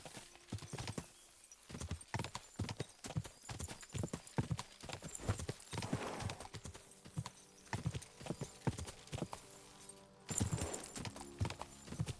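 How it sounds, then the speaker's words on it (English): A horse gallops in the video game Kingdom Come: Deliverance II, a fast steady run of hoofbeats clip-clopping close by for the whole stretch, with a brief whinny among them. "Surely we don't ride into something that knocks us off of our horse"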